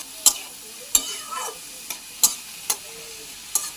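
Chopped ash gourd, cooked with cauliflower, sizzles gently in hot oil while a spatula scrapes the pan in sharp, irregular strokes every second or so.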